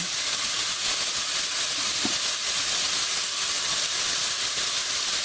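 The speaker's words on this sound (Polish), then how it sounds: "I teraz ta kiełbasa się ładnie tutaj smaży." A steady, loud sizzling hiss of sausage frying in a pan, continuous and close, with no voices.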